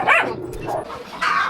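A dog barks a few times during pet vaccination rounds on a hot-weather walk in a Philippine neighborhood, with sharp yips near the start and end over outdoor street noise.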